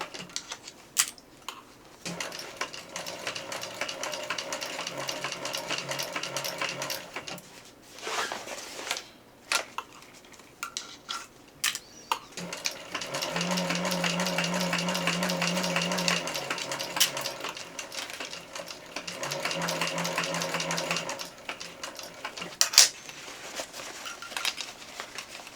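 A sewing machine stitches an AmSport backpack in several long runs of rapid, even mechanical chatter, broken by short pauses and small handling clicks and knocks between runs.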